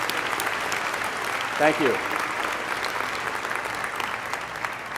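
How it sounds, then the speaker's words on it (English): Audience applause at a College of Dental Medicine graduation ceremony: a steady wash of many hands clapping that fills the hall throughout, while a voice briefly speaks over it. "Let's give them a round of applause."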